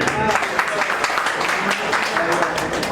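An audience at an association general body meeting claps together in a brief, steady patter of hands while a voice speaks over it.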